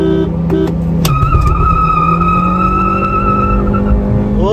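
A Maruti Baleno petrol and a Honda City CVT accelerate hard in a drag race: a loud, close engine drone drops at a gear change, then climbs in a steady rising whine with road roar underneath.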